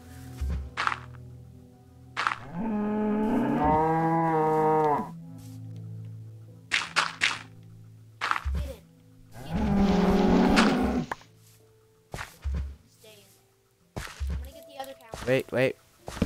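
Cows in a Minecraft-style video game moo repeatedly, two long drawn-out lowing calls standing out clearly amid game thumps, footsteps and short clicks, with a player talking intermittently between them.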